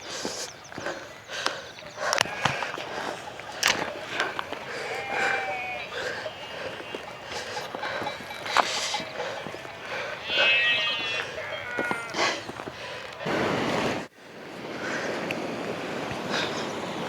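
Livestock on a mountain trail in the Pyrenees, bleats and calls of sheep or cattle rising at moderate distance amid footsteps on the path, with people talking intermittently nearby.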